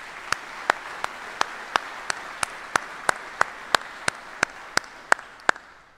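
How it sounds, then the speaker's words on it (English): Audience at a Department of the Army retirement ceremony in September 2023 claps in a steady, even rhythm. The sharp claps fall at regular intervals over a faint background wash and carry on for several seconds. "Again, please, a round of applause for Pershing Zone."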